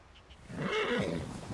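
A horse in the Red Dead Redemption 2 video game gives a single short neigh lasting about a second. It is fairly close and clear, with no talk over it.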